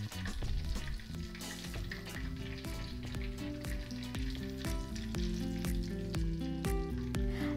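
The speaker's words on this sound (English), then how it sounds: "once the lumpia are golden brown, you want to just take them out of the oil" Lumpia deep-frying in hot oil until golden brown, a steady dense sizzle and crackle running the whole time beneath background music, with no talking.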